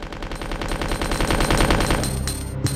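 Submachine gun fire from the 1998 PC game Resident Evil 2 rattles off in a rapid, even stream of loud, close shots, then ends in a few scattered clicks and thuds.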